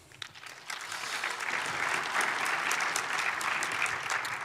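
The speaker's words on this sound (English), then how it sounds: "Give him a round of applause." An audience applauds a lightning talk speaker at a tech conference, steady dense clapping that swells quickly and holds at full strength throughout, with no voices over it.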